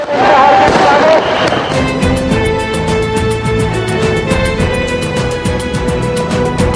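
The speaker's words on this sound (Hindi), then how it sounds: "पटाखों से पूरा आसमान गुंजित हो गया।" Loud firecrackers burst in dense, overlapping cracks and crackles during a 2006 political rally in Pune, a sustained barrage ringing out with no voices heard.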